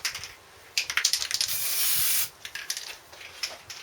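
An aerosol can hisses in a home garage during a motorcycle restoration, with a few short bursts, then one long spray of about a second, then more short bursts, close and clear with no talk.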